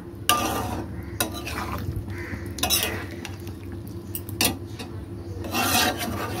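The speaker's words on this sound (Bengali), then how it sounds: "আমি এবার এক ঢাকনা মতন কেওড়া জল দিয়ে দিচ্ছি, দিয়ে এবার মাংসতে মিশিয়ে নেব।" Meat mixed with kewra water being stirred in a pot for home-style biryani, with repeated close scraping and rasping strokes of a spoon against metal, irregular in rhythm, no talking.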